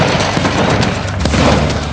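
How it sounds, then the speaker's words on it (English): Champagne bottle of thick toughened glass exploding inside a microwave oven, a loud, dense burst of crashing and rattling debris lasting a couple of seconds with sharp impacts throughout. "when the explosion does happen, it's enough to rip the microwave apart"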